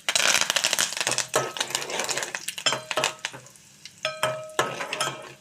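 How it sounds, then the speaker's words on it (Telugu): Curry leaves, dried red chilli, mustard seeds, fenugreek and cumin crackle and sizzle in hot oil, with dense popping bursts and spattering tempering sounds, close and loud, fading to sparser pops toward the end. "ఈ మెంతులు, ఆవాలు కూడా జీలకర్ర నూనెలో వేయించుకుంటే చాలా బాగుంటుంది అన్నమాట"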